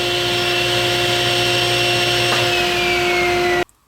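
A power saw cuts a piece of wood to length for a lathe bed tool holder, a loud steady motor whine with a constant high tone running about three and a half seconds before cutting off abruptly.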